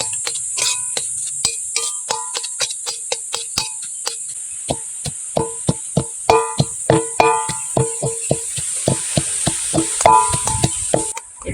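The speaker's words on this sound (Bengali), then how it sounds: "একটু খুন্তি দিয়ে মেখে নেব।" A spatula scrapes and taps against a kadai as homemade garlic, green mango and green chilli pickle is stirred into a kakrol and egg dish, giving quick irregular clicks over a steady close sizzle.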